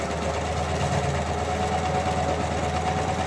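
A sewing machine stitching fabric for DIY earth sacks runs in a steady, continuous mechanical hum with a fast, even rattle of the needle, close and uninterrupted throughout.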